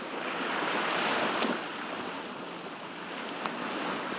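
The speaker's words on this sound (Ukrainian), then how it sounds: "Я зараз перебуваю на одному з міських пляжів Одеси на 13-й станції фонтану." Sea waves wash steadily onto a quiet city beach at the 13th station of Fontan in Odesa, a soft continuous surf wash with some wind noise and no talking.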